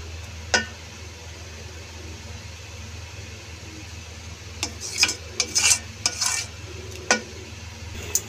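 Vermicelli simmers in boiled milk in a pot on a steady low hum, with a few sharp utensil clinks and a short run of scraping stirring strokes near the middle.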